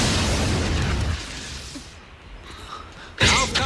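A building is blown apart with firecrackers in a film scene, a loud rumbling roar of debris that fades, then a sudden sharp burst near the end.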